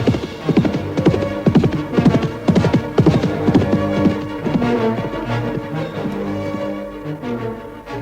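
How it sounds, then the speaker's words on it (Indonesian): Horse hooves clip-clopping along in a steady trotting rhythm, close and clear. The hoofbeats slow and fade toward the end. "Setelah berkuda hampir 1 hari lamanya"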